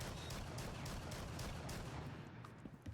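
Rapid, dense shotgun blasts from semi-automatic weapons in the video game Rainbow Six Siege, loud and continuous, layered into a near-constant barrage.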